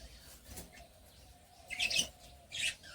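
Pet birds in an indoor aviary give a few short, bright chirps in two or three bursts over a quiet room hum, fairly close, with no talking.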